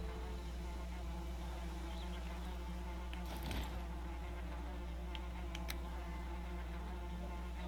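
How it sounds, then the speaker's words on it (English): Bees buzz around a bee nest in Valheim, a steady high insect drone over a constant low hum with a few faint clicks, fairly quiet and continuous with no talking. "Yeah, there's the bee nest."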